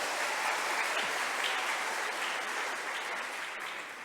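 A church congregation applauds the children's choir with a steady, full wash of clapping that holds for several seconds and fades slightly at the end, with no talking over it.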